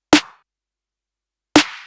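Two snare drum samples run through channel strip processing snap out loud and close, spaced about one and a half seconds apart, each with a crisp attack and short bright tail, heard alone.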